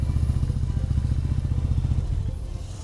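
A 2017 Harley-Davidson Street Bob motorcycle riding along a road, its engine a loud, steady low rumble with a pulsing beat and wind noise, heard close from the rider's position without talking.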